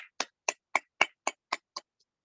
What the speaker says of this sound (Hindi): इस बीएसएस सिस्टम के लिए भी मैं चाहूंगी एक जोरदार तालियां होनी चाहिए